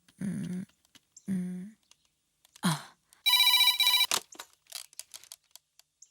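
A telephone rings indoors in a movie scene, a burst of rapid electronic trilling about a second long following brief voiced sounds, then scattered clicks and taps.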